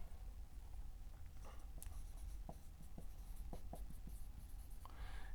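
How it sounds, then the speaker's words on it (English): Marker or chalk writing on a board during an anatomy lecture on capillaries, a run of short scratchy strokes and taps heard fairly close over steady room hiss, with no talking. "So let's write that down there."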